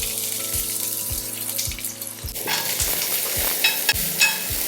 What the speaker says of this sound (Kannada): 1-2 ಚಮಚ ತುಪ್ಪ ಬಿಸಿ ಆಗ್ತಾ ಇದ್ದ ಹಾಗೆ ಹೆಚ್ಚಿದಂಥ ಅರ್ಧ ಕಪ್ ಈರುಳ್ಳಿನ ಹಾಕ್ತಾ ಇದ್ದೀನಿ